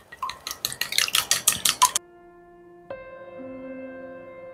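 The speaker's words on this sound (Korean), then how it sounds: "육수가 팔팔팔 끓었어요" Broth for a naengi (shepherd's purse) rice cake soup bubbling hard in a pot, a rapid run of close, popping bursts for about two seconds, then giving way to a steady tonal hum with no talk.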